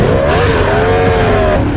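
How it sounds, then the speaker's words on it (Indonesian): Motorcycle engine roars at close range, revving hard with a steady high whine as the bike escapes during a chase in a John Wick film, loud and continuous with no talk. "Nobody membantu John kabur dengan menggunakan motor."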